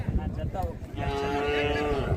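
A cow lets out a long, steady moo, fairly close, amid the general noise and murmur of a crowded cattle market in Chintamani, with HF calves and bullocks.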